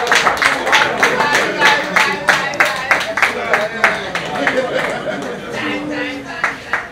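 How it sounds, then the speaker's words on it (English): Audience clapping and cheering at a Nigerian rap battle, a steady crowd applause with chatter and a few louder claps, moderately close, under a background of voices. "A round of applause for them, please."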